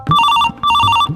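A telephone ringing loud and close, two bursts of a trilling electronic bell separated by a brief pause.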